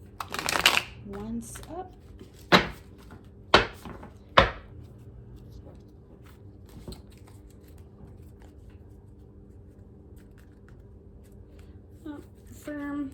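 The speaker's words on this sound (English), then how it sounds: "It's always hard trying to shuffle brand new cards." Stiff, new, coated tarot cards shuffled with a few sharp riffling bursts early on, then quieter handling, with brief talk in the background.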